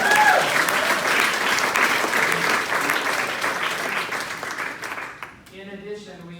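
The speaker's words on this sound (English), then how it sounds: "In addition, applause." Audience applause fills a reunion hall at a family organization gathering, dense steady clapping from many hands that carries loud for several seconds, then fades out as a voice begins speaking at the end.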